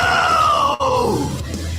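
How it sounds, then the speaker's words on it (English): Goku, the Dragon Ball fighter, lets out a sustained, strained yell of fury that fills the clip, loud and close, with a brief dip near the middle before the cry resumes and slowly falls away over a low rumble. "Goku yells with pure, unadulterated rage, his energy itself rumbling the entire planet."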